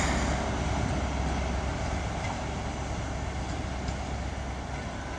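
A train with power car 43-159 at the rear passes at Exeter St David's station on the Great Western Main Line in the evening, a loud, steady low rumble and rolling roar that continues for the whole span without talk.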